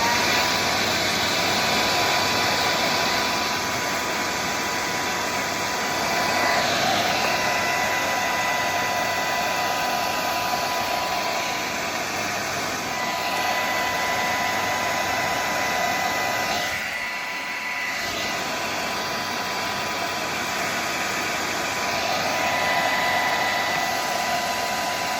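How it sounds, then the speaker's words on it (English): A hair dryer on a mid-range setting blows steadily at a constant loud whir, running nonstop with only a brief dip partway through. "It's just a normal sort of mid-range setting on, you know, Michelle's hairdryer."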